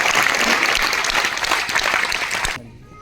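Applause from a seminar audience fills most of the stretch, a dense, steady clatter of many hands that cuts off abruptly near the end, leaving quiet.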